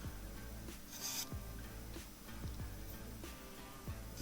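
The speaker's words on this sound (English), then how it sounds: "A little bit of sanding in the bottom." Soft, steady rasping of sandpaper rubbing over the inside bottom of a turned wooden bowl, with continuous scratchy friction and faint low hum underneath.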